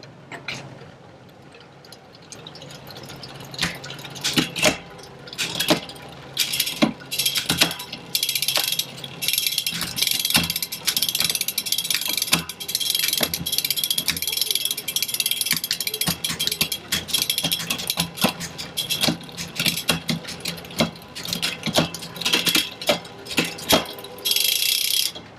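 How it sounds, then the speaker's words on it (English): Rear derailleur on a mountain bike clicks through its gears while the cranks are pedaled, giving a steady ticking freewheel whir with repeated sharp shift clicks throughout, close and fairly loud, no talking. "So I'll shift through all the gears and make sure that the gears are shifting really smoothly."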